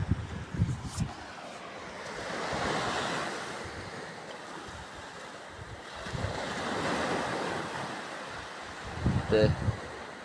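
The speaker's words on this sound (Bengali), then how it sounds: "প্রচণ্ড ঢেউ।" Heavy surf rolls in at Saint Martin island under rough, shifting weather, swelling roars of breaking waves rising and falling over constant wind noise on the microphone, with a brief burst of something closer near the end.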